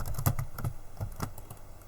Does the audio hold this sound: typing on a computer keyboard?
yes